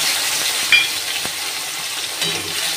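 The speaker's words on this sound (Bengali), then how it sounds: "এই মশলাটা একটু কষিয়ে নেব আগে" Spices sizzle steadily in a hot pan: cumin, coriander, ginger, turmeric and green chili paste. A constant, close frying hiss runs throughout, with a couple of brief stirring scrapes.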